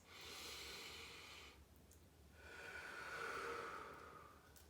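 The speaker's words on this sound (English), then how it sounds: "When we take a deep breath" A deep breath drawn in slowly and let out, two long soft breathy swells close to the mic with a short pause between them.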